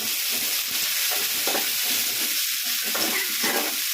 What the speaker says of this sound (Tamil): பெரிய வெங்காயம் எடுத்து போட்டுருக்கேன்